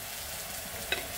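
Onion sautés in butter in a pan, giving a soft, steady, low-level sizzle with a faint clink near the end.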